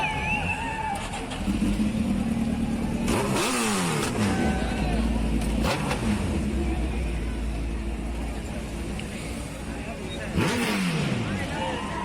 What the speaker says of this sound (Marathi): बरेच यंगस्टर्स आहेत, एकदम वेगवेगळ्या बाईक घेऊन निघालेले आहेत. त्याचा प्रचंड आवाज आहे.